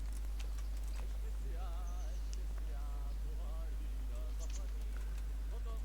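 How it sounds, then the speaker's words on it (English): Horse hooves clip-clop in a medieval setting in Kingdom Come Deliverance, a steady rhythmic trotting close by amid outdoor ambience with faint bird chirps and whinnies, while people talk over it. "Get your horses mounted up."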